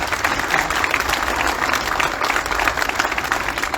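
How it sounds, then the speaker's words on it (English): Big round of applause for the Chino Police Department Honor Guard at a Stater Bros. Markets grand opening and ribbon cutting, a dense, steady wash of many hands clapping throughout, loud and close with no clear talk. "Let's give them another big round of applause."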